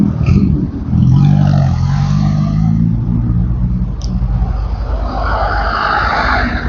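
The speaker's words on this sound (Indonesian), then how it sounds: "Nah ini adalah bis Marita Cianjur Rambutan ya" A Marita intercity bus from Cianjur rumbling past on a road, a loud low engine roar close by that lingers steadily, with a brief clatter and faint traffic around it.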